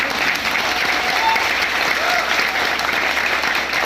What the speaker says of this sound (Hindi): प्लीज के लिए तालियां बजाइए